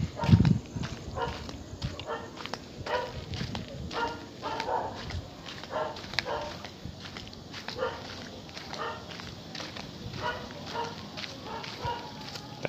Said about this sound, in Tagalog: Nag-ahabol yung aso.